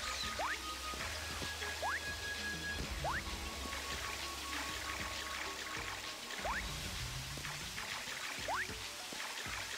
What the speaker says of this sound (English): So we use these waterfalls as stairs.